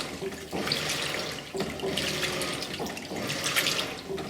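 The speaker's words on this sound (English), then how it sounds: "you see wash action, nice and good" A 2002 Kelvinator K605 washing machine churns colored laundry on its regular wash cycle, with water sloshing and splashing steadily in repeated surges of agitation at close range, no voices.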